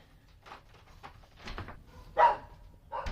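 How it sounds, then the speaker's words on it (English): A dog barks in a few short bursts, moderately near, against a quiet indoor background with no talking. "That's the dog."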